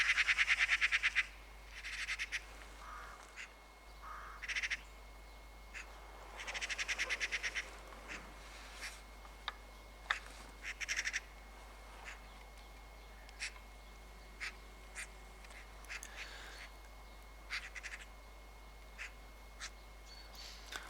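Magpies call harshly as they come down to decoys in a snowy field, with repeated rattling chatters and squawks of moderate loudness and quieter scattered calls over a low steady hum.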